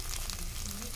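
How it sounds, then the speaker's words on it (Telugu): Green chillies, onion, curry leaves, coriander and mint sautéing in a pan, giving a dense continuous sizzle and crackle of frying oil, steady and close with no one talking. "పచ్చిమిర్చి, ఉల్లిపాయ, కరివేపాకు, కొత్తిమీర, పుదీనా కూడా వేసి బాగా మగ్గించుకోవాలండి"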